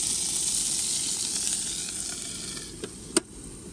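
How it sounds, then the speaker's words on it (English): Asparagus frying in a Ridge Monkey pan gives a steady, close sizzle and hiss throughout, with a couple of brief clicks or taps near the end and no talking. "So I'm just cooking up the asparagus first"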